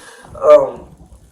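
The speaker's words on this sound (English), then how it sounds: "That damn dog." A single short dog bark or whimper sounds once in the middle, fairly close, with quiet background before and after.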